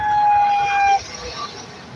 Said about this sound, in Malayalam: ആ എന്റെ പുറകെയാണ് വരുന്നത് ആംബുലൻസ്